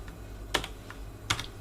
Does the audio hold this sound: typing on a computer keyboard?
yes